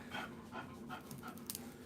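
A dog pants rhythmically and steadily at close range, quick breaths repeating about every third of a second, fairly quiet with no talking.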